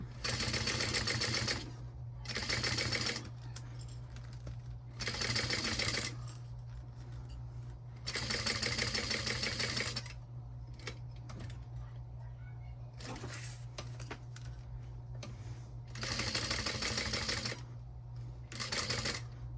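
Sewing machine stitching a fabric wallet at a corner, running in several loud bursts of rapid stitching separated by pauses where the needle stops and the fabric is pivoted, with a steady low motor hum throughout.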